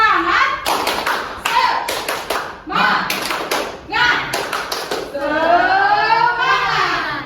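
A class performs a rhythmic 'tepuk semangat' cheer, bursts of sharp unison claps in patterned groups alternating with children's chanting voices, ending in a louder stretch of shouted chant.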